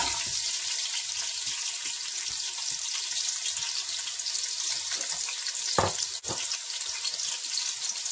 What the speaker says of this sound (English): On medium heat I'm going to put some oil in. And let that get hot. I'm going to add 2 onions.